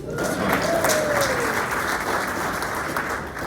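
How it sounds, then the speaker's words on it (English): An audience at a candidates forum claps steadily for a few seconds, a dense wash of applause with a brief whistle near the start. "you can clap for that"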